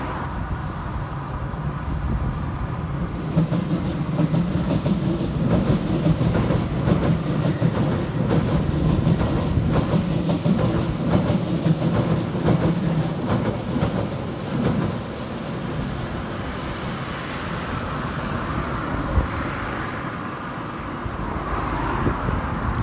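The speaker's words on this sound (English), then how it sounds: "you can see Jubilee line trains from West Ham Garage or Stratford" London Underground Jubilee line trains near the West Ham depot, a steady rumbling rolling noise with rhythmic rail clatter, building and holding, then easing off before a fresh swell near the end.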